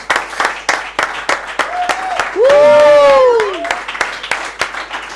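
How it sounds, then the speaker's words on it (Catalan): Live studio audience claps for Blanche on a Catalan variety show, a steady patter of hands with a loud tonal whistle-like swoop in the middle, while a voice speaks over it. "un aplaudiment per la Blanche"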